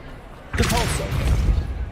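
Depulso spell cast in Hogwarts Legacy, a sudden whooshing blast that bursts in and sustains as a rumbling magical surge, loud and close.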